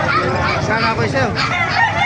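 Chickens and roosters cluster at a crowded poultry market in Calumpit, Bulacan, with dense overlapping clucks and crowing held loud and close the whole time while people talk nearby.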